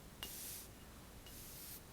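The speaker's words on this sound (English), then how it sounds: "I love that fine continuous mister" A Kayali Eden Juicy Apple perfume with a fine continuous mister gives two short, soft hissing sprays about a second apart, close by in a quiet room.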